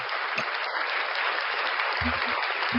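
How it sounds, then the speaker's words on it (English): Steady applause from an audience at a Halloween 2023 event, a dense continuous wash of clapping throughout, with brief low thumps and a murmur of voices underneath. "Here's some more applause for thee"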